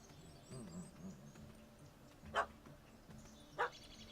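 A puppy barks in The Witcher 3 video game, two short sharp yaps spaced about a second apart over a low game ambience, with faint whining murmurs before them.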